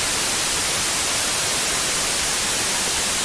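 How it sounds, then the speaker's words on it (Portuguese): Recorded white noise used alongside binaural beats, a flat, even broadband hiss that holds steady and loud throughout with no variation or voices. "A gente usa essa gravada do ruído branco"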